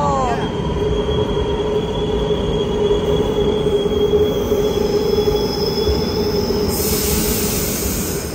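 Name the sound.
train arriving at station, wheels squealing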